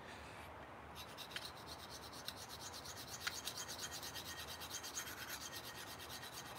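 A blade's worn, badly shaped bevel is reground on an abrasive stone or file, giving a steady, close rasping scrape that repeats in even strokes throughout, with no voices.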